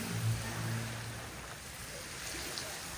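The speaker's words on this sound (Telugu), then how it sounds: "చూడండి వాటర్ ఎంత హైట్ ఎగురుతుందో." Water jets of a musical fountain shooting high into the air at night in Batumi, Georgia, giving a steady, broad rushing spray like surf, continuous and fairly distant with faint crowd ambience.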